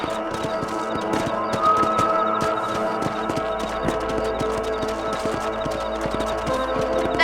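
A horse gallops in the Red Dead Redemption video game, its rapid rhythmic hoofbeats steady and close over a continuous low rumble of in-game ambience.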